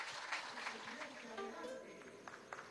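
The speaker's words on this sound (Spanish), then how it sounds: "Con estos aplausos que le envía el pueblo de La Guaira" Applause from a crowd at an outdoor political event with entrepreneurs in La Guaira, a steady dense patter of clapping that carries through the whole stretch, with voices mixed in.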